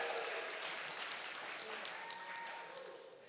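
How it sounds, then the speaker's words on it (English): Applause for a couple at a celebration: a burst of many hands clapping at once, fairly far off and thinning toward the end, with voices mixed in. "Give them a round of applause."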